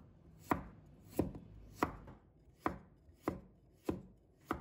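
A knife cuts peeled ginger into slices on a chopping board, giving seven crisp, evenly spaced chops in a slow, steady rhythm. Each chop is close and sharp against a quiet background.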